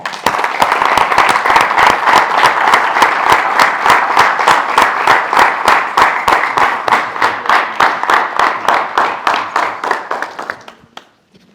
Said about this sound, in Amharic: በቅልጥ ባለ ጭብጨባ